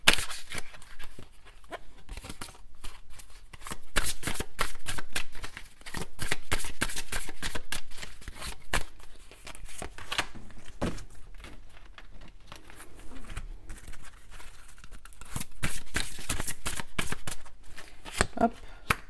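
Tarot cards shuffled by hand, with repeated rapid riffles and soft flicks in irregular bursts, close by, and a voice talking at times between them.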